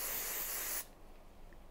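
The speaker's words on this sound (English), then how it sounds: "spray" Hair spray hisses from an aerosol can in one steady, close burst for almost a second while curls are styled, then cuts off to near silence before a brief knock.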